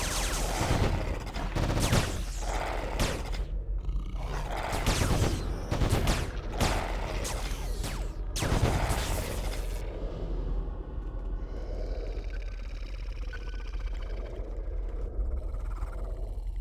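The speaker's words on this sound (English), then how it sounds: "I do like the sound of the dock pistols as well" Rapid volleys of pistol gunfire from a dock character in Anarchy Online, loud bursts of repeated shots for the first half, then fading into a low ambient game hum.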